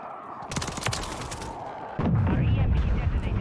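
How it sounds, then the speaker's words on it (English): An EMP goes off in a Modern Warfare 3 multiplayer match, with a dense crackling burst of noise, then a heavy low rumble that holds to the end, with shots and voices mixed in. "Our EMP detonated."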